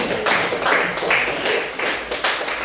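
Applause at an on-the-job training session: a short, steady patter of hands clapping together through the whole moment, moderately loud and close, with no one speaking over it.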